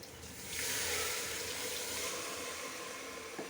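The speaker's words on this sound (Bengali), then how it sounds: "এখন ঝোলের পানি দিয়ে দিতেছি।" Water poured into a pot of curry, a soft, steady splashing pour that swells after a brief moment and runs on evenly, fairly quiet and close, with no talking.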